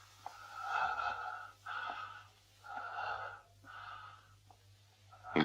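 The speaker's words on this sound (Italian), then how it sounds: "Finché non sento altro che il mio respiro. E mi spaventa di sentirlo rauco e così simile al rantolo di un cane." Hoarse, rattling breaths wheeze in and out in slow, regular cycles, close and fairly faint, with a low hum underneath.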